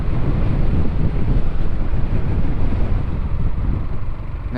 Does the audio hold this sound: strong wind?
yes